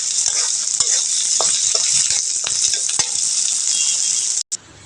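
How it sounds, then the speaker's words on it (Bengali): Small shrimp and dried red chillies fry in a hot pan with a loud, steady sizzle and crackle, broken by a few stirring scrapes and briefly cutting out near the end. "সাথে দিয়ে দিলাম দুটো শুকনো মরিচ আর ছোটো চিংড়ির মাছ তো ভাজানো করছি দেখো"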